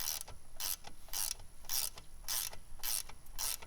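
A nut is tightened onto a mainspring bolt with a ratcheting wrench, seven evenly spaced bursts of ratchet clicking in a steady rhythm, close and fairly loud, with no talk.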